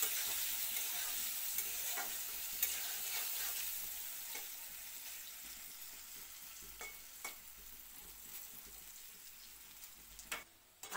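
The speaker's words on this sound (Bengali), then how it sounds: "আলু টুকরোগুলো একটু লাল লাল ভাবে ভাজা করা হইব।" Potato pieces with salt and turmeric fry in a pan, giving a soft, continuous sizzle. Faint stirring scrapes and occasional small crackles sound close by but quiet.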